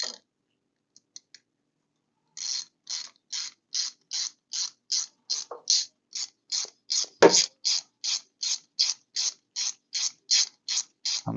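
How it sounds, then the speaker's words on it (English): Bolt being screwed into a racing go-kart brake: a steady series of about twenty sharp, evenly spaced ratcheting clicks, close and fairly loud, after a few faint ticks and a brief pause, with no talking. "I'm just going to go ahead and screw that thing in."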